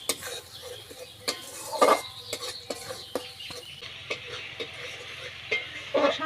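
Fish curry masala paste for pabda fish jhal is sautéed in a pan, giving a soft sizzle under repeated clinking, scraping spatula strokes at an uneven rhythm, close by and moderately quiet.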